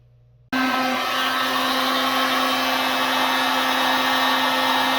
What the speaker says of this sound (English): Take the heat gun to them.